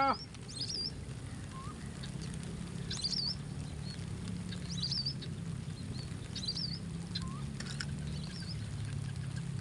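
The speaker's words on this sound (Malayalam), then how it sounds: "മഴ കിട്ടി, മഴ മഴ." Rain falls at an outdoor fishing spot, a steady soft patter across the whole stretch with a low hum beneath and faint chirping birds here and there.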